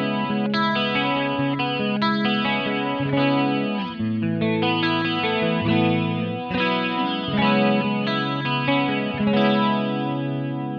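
Electric guitar played through a BOSS Dimension C Waza Craft chorus pedal in mode 1, a steady run of shimmering, widened chords and single notes ringing continuously with no talking.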